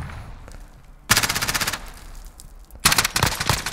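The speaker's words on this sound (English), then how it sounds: "I hear a shotgun as well." Heavy gunfire bursts in the Call of Duty Modern Warfare video game, Cyber Attack mode, with two loud rapid volleys separated by a quieter stretch; the exact weapon type is not clear from the sound.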